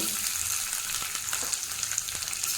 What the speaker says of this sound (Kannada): ಎಣ್ಣೆನ ಬಿಸಿಯಾಗಿದೆ ಅದಕ್ಕೆ ಇವಾಗ ನಾನು ಸ್ವಲ್ಪ ಬೆಳ್ಳುಳ್ಳಿಯನ್ನು ಹಾಕೋತಾ ಇದ್ದೀನಿ